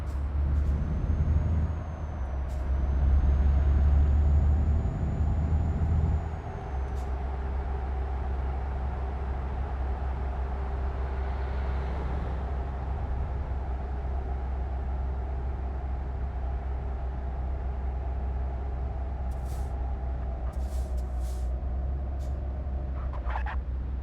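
A truck's air brake in the Euro Truck Simulator 2 game releases a loud hiss over a steady engine drone, then the engine hum carries on alone for a long stretch with faint high clicks near the end.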